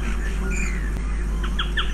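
Birdsong drifts through an outdoor campsite, with short repeated chirps late in the clip over a steady low hum of breeze and ambient noise, moderately distant and without talk.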